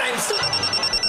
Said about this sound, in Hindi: मेरा फोन आ रहा है